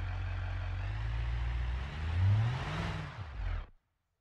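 A car engine in BeamNG drives a spinning driveshaft, a steady close hum that swells as it revs, then drops and cuts off abruptly as the engine dies.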